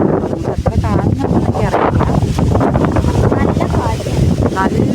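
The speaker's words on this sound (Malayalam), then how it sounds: "കാറ്റ് വീശുന്നത് അതാണ്" Wind gusts across an open hillside near a temple, rumbling steadily against the microphone for the whole stretch, loud and close, with faint voices mixed underneath.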